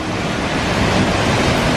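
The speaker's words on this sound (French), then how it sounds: "On est là, juste devant la cascade." A waterfall at a Japanese hot spring onsen roars in a steady, dense broadband rush, loud and close, with no talking.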